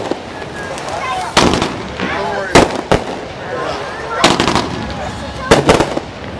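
A Mind Games five-shot firework cake fires in rounds, with sharp, loud bursts in clusters over a steady outdoor background and some voices between the shots.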